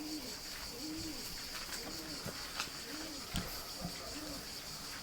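Pigeons coo in a coop with soft, rhythmic, repeated calls about a second apart. The calls sound close but quiet, over a low steady background with a few faint knocks.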